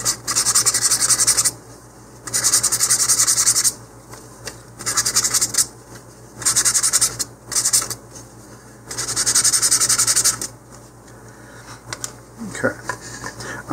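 Rough scraping of a rocket's motor mount tube for the LOC Precision Hi-Tech high power kit, coming in several sustained bursts of rubbing with short pauses between, close and clear; a faint voice is audible at times.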